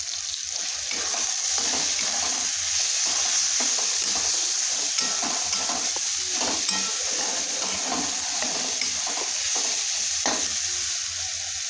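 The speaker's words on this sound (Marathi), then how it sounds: "आपण खोबरं कोथिंबीर आणि लसूण थोडं बारीक केलेला मिक्स करून घेऊया" Grated coconut, coriander and chopped garlic being stirred into frying tomato and onion in a pan, a steady close sizzle with constant spatula scraping, no one speaking.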